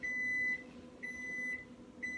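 A microwave keypad being set to 55 seconds gives out a series of clear, sustained electronic beeps, roughly one per second, close and distinct over a quiet room.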